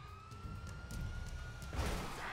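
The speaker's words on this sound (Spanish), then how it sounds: "Va tan rápido, es una ambulancia" An ambulance siren in the video game GTA 5 wails at moderate distance with a steady rising tone, then grows louder and noisier near the end amid traffic sound.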